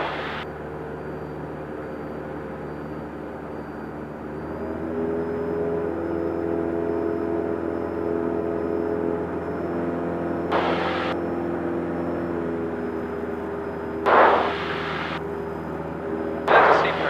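A light airplane's engine drones steadily through a steep turn, a continuous mid-level hum with a slight swell partway through and a few brief bursts of noise near the end, with no talk.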